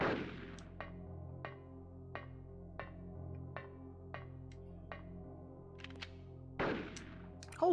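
Repeated gunshots in the Silent Hill video game, a dozen evenly spaced sharp cracks over a steady low game drone, with a louder burst of noise near the end.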